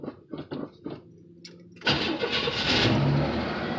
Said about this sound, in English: And this car, it'll start up,